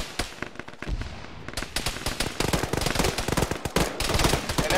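Gunfire in an ArmA military battle, with RPG explosions mentioned: dense, rapid cracks of small-arms fire, sporadic at first and then nearly continuous, loud and close.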